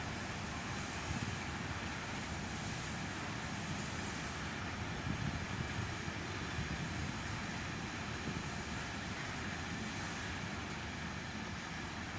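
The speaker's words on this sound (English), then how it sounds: "Looks like an aggregates train." An aggregates freight train passes through Reading station on the Great Western Main Line, a steady, broad rumble and wagon roar held evenly at moderate distance for the whole stretch.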